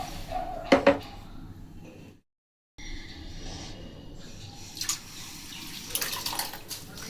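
Washed drumstick flowers and potatoes are squeezed by hand to press out water, giving wet dripping and splashing sounds in close bursts with a short silent gap.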